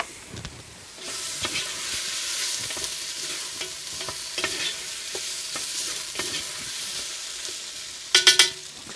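Vegetables sizzle and fry in a pan on a Big Green Egg grill with steady crackling and stirring, ending in a few sharp metallic scrapes.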